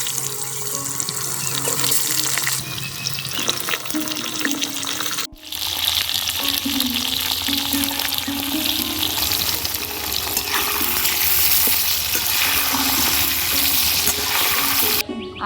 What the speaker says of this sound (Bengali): তাই বেগুন আর আলুটাকে ওই তেলেই ভেজে তুলে নেব